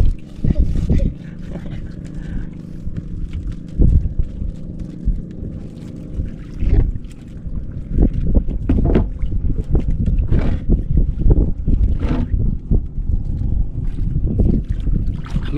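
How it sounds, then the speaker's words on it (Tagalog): Amihan northeast monsoon wind blowing at sea near a boat, heard as loud, gusty buffeting across the microphone with rumbling bursts and knocks, while people talk intermittently. "Paihip-ihip na naman ang amihan."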